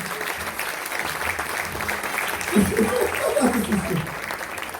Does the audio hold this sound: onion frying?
no